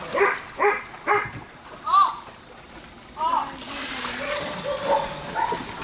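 A dog barks several times in a quick series, fairly close, followed by splashing water and voices in the background.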